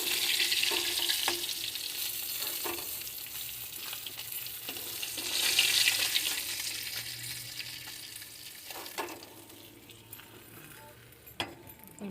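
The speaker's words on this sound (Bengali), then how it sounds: "এই যে আমার মাছগুলো ভাজা হয়ে গেছে, এই মাছগুলো তুলে নেব" Fish pieces fry in hot oil with a soft, continuous sizzle, broken by scattered clicks and knocks as they are handled in the pan. A faint murmur of background talk sits underneath.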